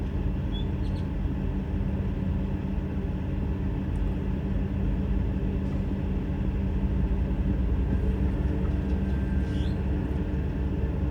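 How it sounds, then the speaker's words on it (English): A train rumbles in the distance beside a Love's truck stop in Liberal, Kansas, a steady low drone that holds without a break under faint outdoor ambience, with no one talking. "I hear a train, but I don't see a train."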